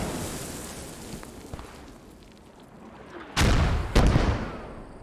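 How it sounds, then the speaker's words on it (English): Artillery shelling in an online war video game: low ambient rumble, then two heavy booming impacts in quick succession near the end, fairly close and loud. "You can see some artillery coming in."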